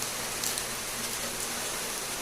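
Steady rain pattering outside, a continuous dense hiss of drops on surfaces with no breaks.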